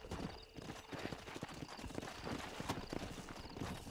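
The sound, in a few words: horse hooves galloping, from a video game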